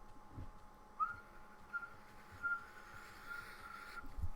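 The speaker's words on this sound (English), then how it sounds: "you can all hear this very faint whistling." A faint, thin whistling tone holds steady for several seconds, barely rising above a low rumbling background.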